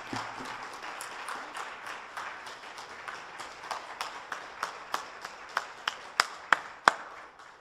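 Audience at a conference on adolescence and violence applauding after talks, scattered clapping that gives way to a few sharp, increasingly loud single claps near the end.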